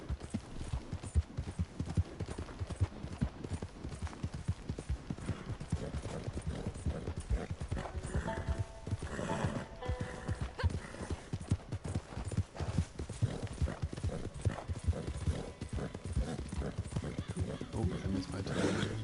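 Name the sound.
female horse hooves clip-clopping in Red Dead Redemption 2 video game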